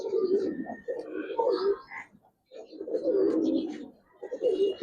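Giribaz pigeons coo in repeated low, throaty rolling phrases, fairly close and loud, with a brief pause midway before the cooing resumes.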